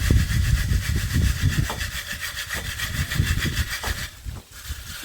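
Dried bean pods being threshed and sifted through a sieve, a loud rhythmic rubbing and shaking with repeated coarse scraping strokes about every half second, close by and without voices.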